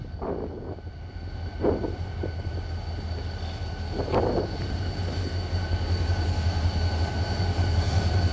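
A diesel locomotive, No. 7350, pulls a Mugunghwa train into Hallimjeong station, rumbling steadily, a low continuous drone building slightly louder, with a few faint clanks and a high steady whine over it.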